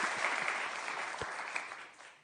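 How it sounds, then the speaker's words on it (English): Audience applause at a European defense townhall, a steady wash of many hands clapping that gradually fades toward the end. "Give her a warm applause, please."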